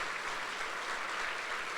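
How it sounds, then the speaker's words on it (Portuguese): A church congregation applauds during a Sunday worship service, a steady, dense wash of many hands clapping at moderate distance, with no voices standing out. "Você quer aplaudir esse Deus?"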